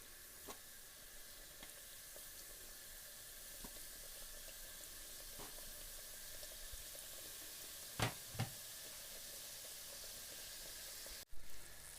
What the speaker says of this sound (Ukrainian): Тепер ще смажимо наші колечка